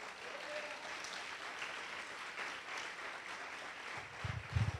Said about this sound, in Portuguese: Quem crê, aplauda ao Senhor.